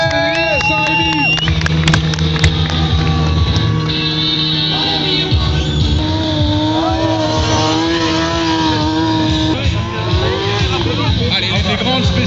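A stunt motorcycle engine revs hard and repeatedly at an outdoor stunt show in Saint-Rémi-sur-Orne, its loud rising and falling whine continuous over crowd noise and an announcer talking over a PA.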